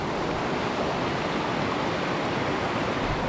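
Steady broadband rush of a Colorado river flowing past the spot where trout were caught, a continuous close wash of moving water with no breaks and no voices.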